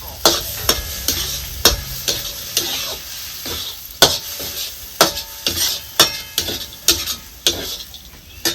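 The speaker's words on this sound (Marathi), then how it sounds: "मग परत परतून घ्यायची भाजी." Safflower greens being stir-fried with crushed peanuts in a pan, the spatula scraping in steady repeated strokes over a soft sizzle, close and with no talking.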